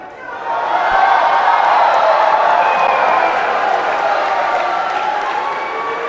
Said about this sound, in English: This crowd are waiting to exhale, cheering every ball potted now, even the most straightforward.